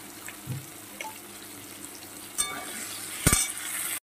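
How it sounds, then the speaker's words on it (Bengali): Onion and tomato fry in a pan while a spoon stirs them, giving a steady low sizzle broken by a few louder scrapes and clanks before the sound cuts off abruptly. "দেখো পেঁয়াজ টমেটোটা আমার ভাজি হয়ে গেছে"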